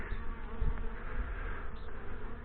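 Honey bees cleaning out a nectar frame in a nuc hive give off a close, continuous buzzing hum with slight swells, heard alone and fairly quiet.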